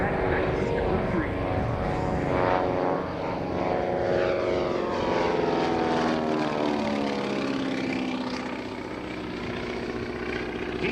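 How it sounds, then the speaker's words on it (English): A Beech C-45 Expediter twin-propeller warbird climbs away at an airshow, its droning engines loud and steady with shifting pitch as it passes, while an announcer talks over the roar. "The C-45 taking flight"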